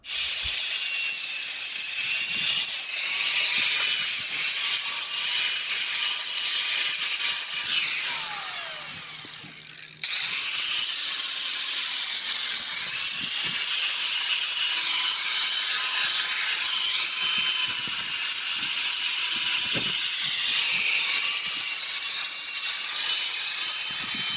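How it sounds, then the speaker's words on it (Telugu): A machine cuts through mud interlock and cement bricks with a loud continuous high grinding whine that dips briefly midway and then carries on steadily. "వీటిని మిషన్స్ అనేవి పెట్టి కటింగ్ అనేది చేయాలి ఆ ప్రాసెస్ ఒకసారి చూడండి"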